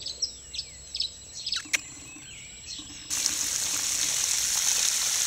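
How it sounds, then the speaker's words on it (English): Water gushing steadily from a hose or can into freshly dug planting holes in a garden for pepper seedlings, starting abruptly after scattered birdsong and continuing close and loud. "now we're going to fill them with water"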